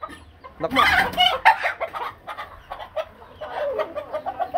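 Spangled Hatch gamefowl chickens cluck and chatter close by in a busy, overlapping flurry, loudest at the start and then settling into scattered, irregular clucks.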